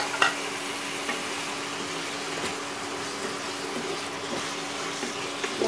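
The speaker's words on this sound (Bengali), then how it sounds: "মশলাটা ভালোভাবে মেখে দিচ্ছি।" Rita fish head pieces are stirred into masala frying in a pan, giving a steady soft sizzle with scraping stir noises and a faint background hum, fairly quiet and close.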